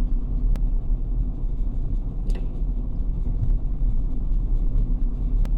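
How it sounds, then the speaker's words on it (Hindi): A car creeps slowly out of a parking spot, its steering straightened as it passes close to a pole. There is a steady low engine rumble from inside the cabin with a few faint clicks, and no talking. "अब स्टीयरिंग को सीधा कर दीजिए और देखिए गाड़ी कितना क्लोज निकलेगी"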